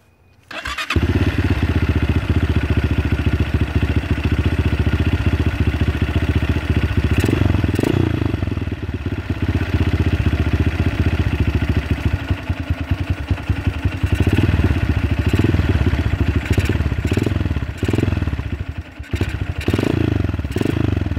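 A dirt bike engine treated with Seafoam cranks, catches and runs loudly and continuously nearby, with uneven blips of revving and some clattering throughout.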